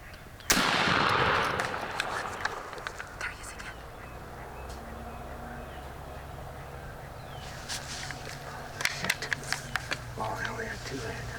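Shotgun blasts aimed at a wild turkey during a spring hunt: one loud sharp report near the start, then quieter outdoor ambience with faint whispered voices and a cluster of small clicks and knocks toward the end.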